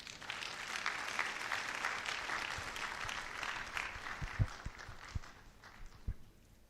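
Audience applause at a university orientation programme for new students, a sustained patter of many hands that thins out toward the end, leaving a few scattered louder claps and thumps.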